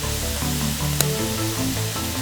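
Tofu and peas stir-frying over super high heat on a Fourneau fire pit grill, a steady close sizzle with a brief sharp spatter midway and no talk.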